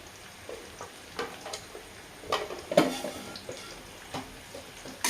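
Egg and potato fry with chili powder being stirred in a pan, giving soft scraping and clinking strokes at an irregular pace over a faint, low sizzle, close by, with no talking.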